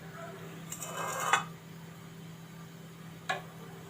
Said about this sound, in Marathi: आता हे हलवत राहायचं आहे चमच्याने जेणेकरून दूध थोडंसं आटेल